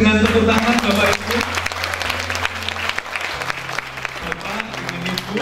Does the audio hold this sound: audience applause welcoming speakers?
yes